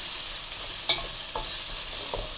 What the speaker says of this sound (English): just frying those last few onions and the ones they were marinated in.